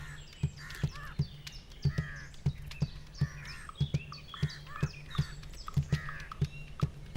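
Crow calls recur through the scene, a string of short harsh caws and chirpy notes with sharp taps, set in a wild habitat where the bird uses a pandanus-leaf tool to probe fallen trees for larvae.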